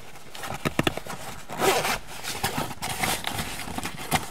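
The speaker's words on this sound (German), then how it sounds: "wir ziehen hier einfach den Reißverschluss hoch an beiden Seiten." Zipper pulled up along the sides of a dog car seat cover, giving several short scraping runs of zip teeth close by, with rustling fabric between them and no talk.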